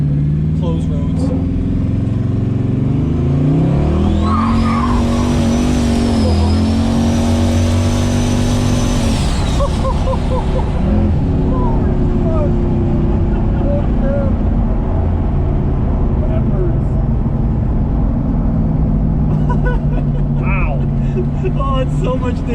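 A turbocharged car engine accelerates hard on a closed road, running on wastegate at about 6 psi of boost. It is loud and close, rising then settling in pitch, with a voice talking over it.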